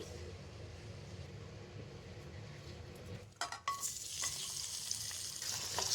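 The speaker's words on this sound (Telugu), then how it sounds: "ఇప్పుడు లాస్ట్లో అయితే మనం డేట్స్ని ఫ్రై చేసుకోవాలి" Dates fry in a pan for a dry-fruit laddu, a soft steady sizzle at first, then a burst of scraping and stirring clatter midway before the hiss grows louder and denser, alone with no talk.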